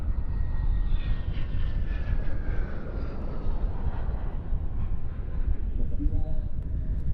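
A Leonardo M-346 non-afterburning jet trainer flown by the Polish Air Force demo team at an airshow, making a steady, loud roar with a faint shifting whine that fills the whole stretch, with crowd noise beneath.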